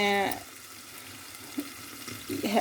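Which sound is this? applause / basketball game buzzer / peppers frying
peppers frying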